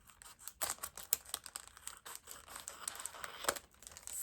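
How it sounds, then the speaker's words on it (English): Scissors snip open the top of a plastic stencil packet for card making, giving a few sharp crisp cuts amid crinkling packaging, close and fairly quiet. "let's just snip off the top of the packet"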